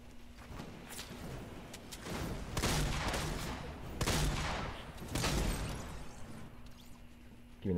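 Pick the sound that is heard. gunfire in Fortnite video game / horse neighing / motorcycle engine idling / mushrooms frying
gunfire in Fortnite video game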